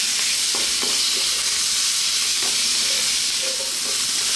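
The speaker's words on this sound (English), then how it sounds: "keep this moving all the time now, because once the garlic ginger paste goes in, it can burn quite easily" Garlic ginger paste with curry powder sizzling loudly in a hot pan for Indian-style cauliflower mushroom fried rice, a constant close hiss broken by a few soft scrapes of stirring.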